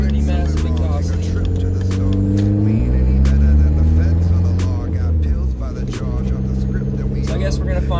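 A turbo VW Jetta engine with a massive exhaust leak and a rev hang revs up and settles back in a few close, loud swells, its drone held steady between them.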